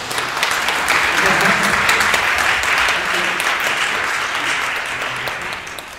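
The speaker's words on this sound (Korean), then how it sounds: "격려의 박수를 한번 해주세요" A church audience applauds a Cambodian soprano, a dense crowd of hand claps swelling quickly, holding strong and steady, then tapering off over about six seconds.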